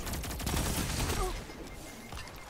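Rapid burst of gunfire-like shots from rocket weapons in the video game Destiny 2, loud and dense for about a second before tailing off.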